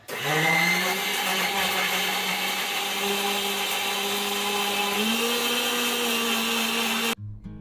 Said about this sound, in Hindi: बस इसको डाल के और मिक्सर ग्राइंडर में पीस लूँगी।